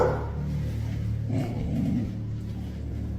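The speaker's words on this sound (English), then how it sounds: "His dog is aware of this weirdness and barks in confirmation that there might be an intruder" A dog near a door at night gives low growls and short muffled woofs, fairly close and loud, with a low rumble running underneath and no talk.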